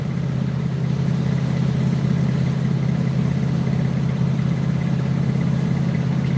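A steady vehicle engine drone in a video game hums throughout, low and continuous like an idling motor, with no voices over it.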